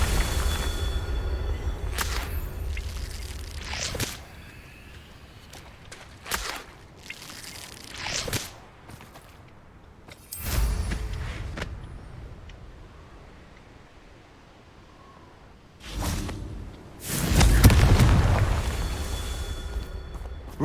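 Confringo fire spells fired in the Hogwarts Legacy video game, several sharp whooshing blasts with explosive bursts at irregular intervals between quieter stretches.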